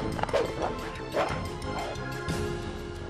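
A cartoon dog in a French animated series yelps and barks in several sharp bursts amid crashing and thumping effects, with a sustained musical tone underneath.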